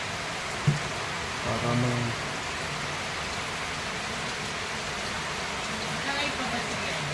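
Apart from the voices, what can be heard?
rain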